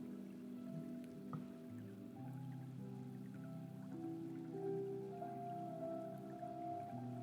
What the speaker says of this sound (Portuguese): o som da água